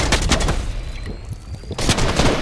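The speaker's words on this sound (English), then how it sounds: "Yeah, this kid's shooting at me." Gunfire in Fortnite, loud rapid bursts of shots at the start and end of the clip with a brief quieter lull between them, close and dense.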